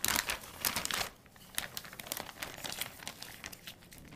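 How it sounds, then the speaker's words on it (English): A gallon-sized plastic zipper bag holding pork belly and cure mixture crinkles loudly and close up as the contents are rubbed, with rapid crackling bursts that ease into softer, intermittent rustling. "The pork belly goes in a gallon-sized zipper bag, then the cure mixture will be added to that"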